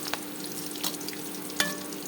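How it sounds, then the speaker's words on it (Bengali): Onions fry in a pan on a stove for a greens and fish curry. A soft, continuous sizzle carries a few sharp scraping stirs from a spatula, heard up close with no voices. "এই তো আমি পেঁয়াজগুলোকে একটু ভাজা ভাজা করে নিতেছি।"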